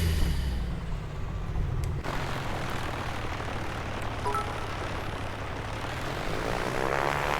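A PA24 Comanche's propeller engine droning steadily during a soft field landing in MSFS2020, a constant loud hum with a faint click partway through.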